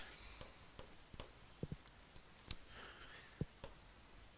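Pen or chalk writing during a maths lecture on vectors, heard as a string of short scratchy strokes and taps at close range with no talk over them.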